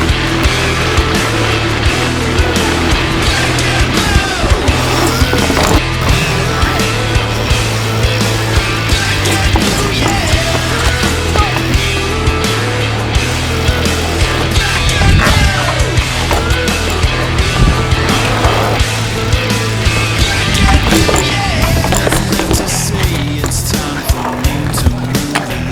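A Scott Spark RC SL mountain bike in an ultralight cross-country setup being ridden, with constant loud rolling tire noise, chain and frame rattle, and wind rush throughout, no talk.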